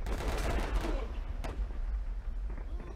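Machine gun fire in the Warfare 1917 video game, a continuous crackling burst of battlefield gunfire with one sharper crack in the middle, loud and dense throughout.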